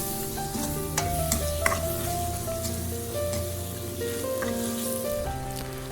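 Chili powder and tomato pieces stirred in a frying pan, with a steady close sizzle and occasional scraping clinks of the spoon against the pan, no talking.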